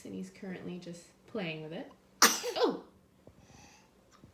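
A baby sneezes once, sharp and close, at breakfast while someone talks before and after about him eating blueberry protein pancakes.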